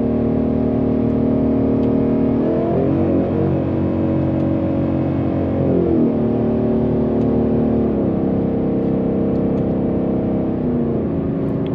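A Ford Mustang with a 10-speed automatic accelerates steadily, its engine drone climbing in pitch and then dropping at each quick upshift, repeated several times at close range with no talking.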